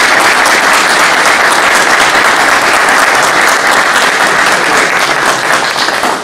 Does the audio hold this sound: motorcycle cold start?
no